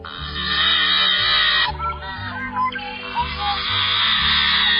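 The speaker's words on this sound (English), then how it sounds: "It's the yellow-headed blackbird." A yellow-headed blackbird gives harsh, grating, buzzy calls in two long strained bursts separated by a brief pause, loud and close, with no talk.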